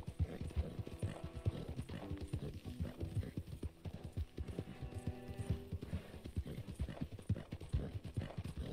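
Horse hooves clip-clop in Red Dead Redemption 2 as a rider climbs a mountain trail: a brisk, continuous patter of close, steady hoofbeats with a voice talking faintly over it.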